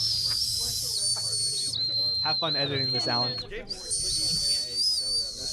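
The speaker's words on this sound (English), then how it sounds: "They're blowing into it. They're whistling." Several people whistling by blowing into lollipop suckers, producing steady high-pitched whistle tones that stop and restart, with chatter and laughter mixed in at close range.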